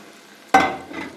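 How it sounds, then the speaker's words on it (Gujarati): Soaked spice masala drops into hot oil with frying garlic cloves, setting off a sudden loud sizzle that fades over a second, alone without talk. "હવે આપણે એમાં જે મસાલો પલાળીને રાખ્યો છે એ નાખી દઈશું"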